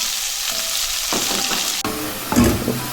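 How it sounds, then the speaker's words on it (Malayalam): Onions sauté with salt in a pan for ulli theeyal, a steady close sizzle broken by scraping stirs, with no talking. "ഉപ്പിട്ടതിന് ശേഷം ഗോൾഡൻ കളറാവുന്നവരെ വരെ വഴറ്റിയെടുക്കുക"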